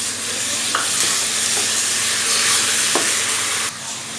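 Chopped tomatoes sizzle and fry in a pan with onions that have already browned, with steady loud frying hiss and a few brief stirring scrapes, no talking.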